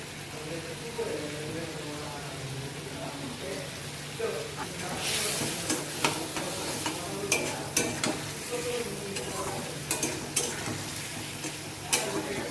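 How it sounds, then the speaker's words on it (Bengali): Fried kakrol (teasel gourd) is stirred into a sizzling spice mix with turmeric and salt in a pan; steady frying sizzle with repeated scraping stir strokes that grow louder partway through, close up. "মশলাটার মধ্যে আমি ভাজা কাঁকরোলটা দিয়ে দিচ্ছি।"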